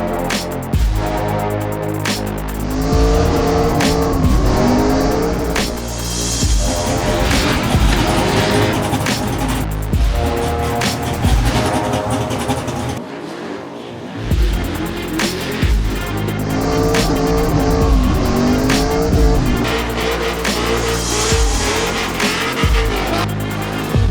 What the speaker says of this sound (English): Now we just need to get the car driving.